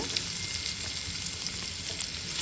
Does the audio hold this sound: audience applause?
no